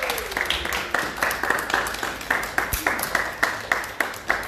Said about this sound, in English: Clap yourselves, Thursday group.